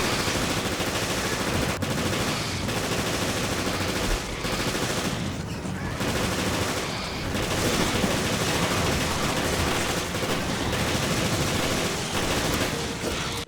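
Dense, continuous gunfire from players shooting hunter creatures in Resident Evil Revelations, a loud unbroken barrage with bursts layered throughout and only brief dips in intensity.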